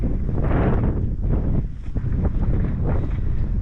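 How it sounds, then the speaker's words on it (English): Steady wind roars and buffets against the microphone, a loud, continuous gusty rumble with no voices. "It's cold and windy."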